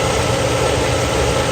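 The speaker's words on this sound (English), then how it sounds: "You can see the engine is running." A Mercedes 600SEL engine idles steadily with a constant loud rumble and even vibration, just after a transmission install.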